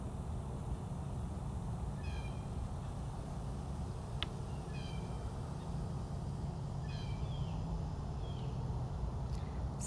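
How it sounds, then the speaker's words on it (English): Savannah cat at a big cat rescue sanctuary meowing and yowling several times over steady outdoor background noise, with brief sharp clicks between the calls. "Hutch, what are you yelling about?"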